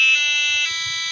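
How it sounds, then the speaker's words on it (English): A piezo buzzer on an EDU:BIT board plays three loud shrill electronic notes back to back, each a steady piercing tone with a pitch step between them. "Okay, press button A to play the 3 notes."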